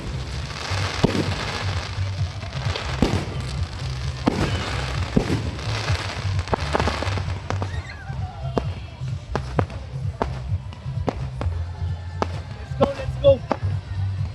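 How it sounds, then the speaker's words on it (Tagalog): Fireworks pop and bang in sharp, irregular bursts over the Cagayan Valley provincial capitol, some near and some farther off, while people talk and call out in the background. "fireworks"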